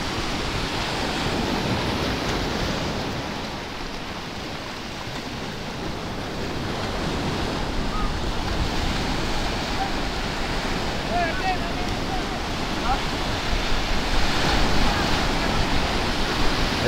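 Loud, continuous roar of large ocean waves and surf at Baler during Typhoon Verbena, with heavy wind noise buffeting the microphone throughout.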